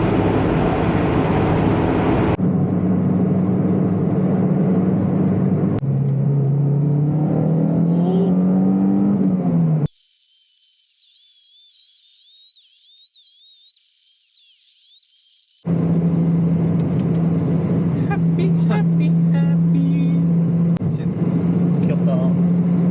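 A 1997 Toyota MR2 turbo sports car cruises above 100 km/h, its steady engine drone and road roar filling the cabin, broken by abrupt cuts and a brief stretch of near silence.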